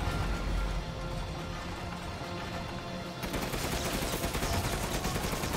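Gunfire during a boss fight in the video game Resident Evil Village, a dense, loud, continuous rattle of rapid shots that grows harsher and brighter partway through, with no speech.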